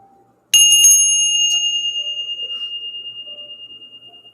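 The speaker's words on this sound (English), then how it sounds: "Did you hear that double bell? That double ring when I first struck it?" A bell is struck once and gives a clear double ring, a bright metallic tone that rings out loud and close and then decays slowly with a steady pulsing beat, alone in near silence.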